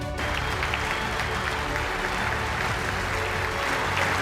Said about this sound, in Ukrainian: Перед промовою Володимира Зеленського представники конгресу декілька хвилин стоячи аплодували українському лідеру.